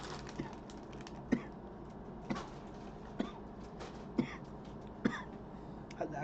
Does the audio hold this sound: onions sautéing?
no